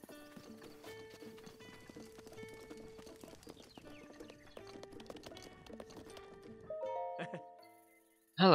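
Horse hooves clip-clop in Zelda: Breath of the Wild, a steady rhythmic trot of many light beats over several seconds, rising to a brief louder whinny-like flourish near the end before stopping.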